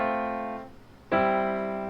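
Sustained piano chords for the chorus ring out up close. One chord fades, then a fresh, louder chord is struck about halfway through and held.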